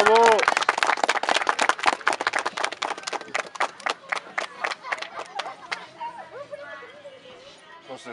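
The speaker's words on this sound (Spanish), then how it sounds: "Un aplauso por favor para los novios" Guests at a wedding in Coahuila applaud the newlyweds with dense, close clapping that starts loud and thins into scattered claps, with cheers and chatter mixed in.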